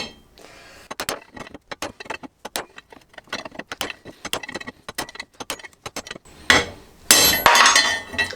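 Close, sharp metallic hammer strikes from a 1 lb hammer knocking a swingarm bushing out of a Triumph Bonneville T1, irregular rapid blows with clinks between them and a brief harsh scraping burst near the end.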